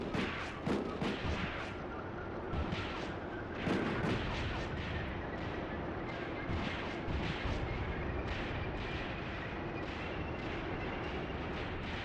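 Panzer II tanks firing in the WW2 battle game Graviteam Tactics, with repeated sharp cannon shots and distant booms over a constant rumbling battlefield din.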